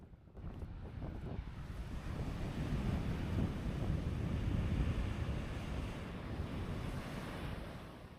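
Atlantic surf breaks steadily on a wide, west-facing beach while strong wind buffets the microphone, a continuous loud roar swelling and easing over several seconds with no voices.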